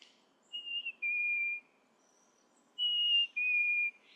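A person whistles an imitation of a chickadee's call, two pairs of clear, close two-note whistles, each falling slightly in pitch, with short pauses between them.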